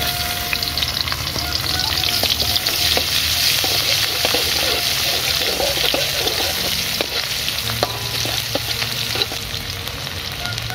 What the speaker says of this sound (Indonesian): tumis bawangnya dulu